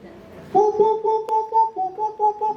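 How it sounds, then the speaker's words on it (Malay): A recorder is blown in wavering, tuneless held notes and short bursts, fairly close and alone, with no melody. "Kalau kita tiup recorder tu tanpa ada melodi, tanpa ada alunan"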